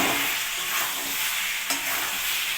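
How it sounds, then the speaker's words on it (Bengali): Chicken pieces coated with Kashmiri chilli powder and chicken masala frying in a pan with yoghurt-based seasoning, a steady dense sizzle with a brief scrape of stirring, close and without talk. "মাংসটা আমি ভালো করে 2 মিনিট ভাজা ভাজা করে নেব।"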